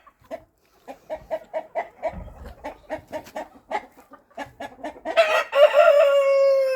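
A small black rooster chasing Cochin hens in a farmyard makes a run of quick, evenly spaced clucks, then a loud, drawn-out crow close by.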